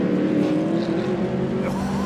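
A Mercedes GT3 race car at speed on the Blyton Park circuit, a loud engine note with a rising then falling pitch as it sweeps past, steady and close.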